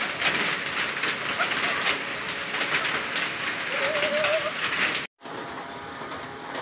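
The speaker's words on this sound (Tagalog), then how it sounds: "mas lumakas pa yung ragasa ng tubig dun sa unahan" Steady broadband rush of floodwater after rain near a spring, loud and continuous, with a faint bird call partway through and a brief dropout near the end.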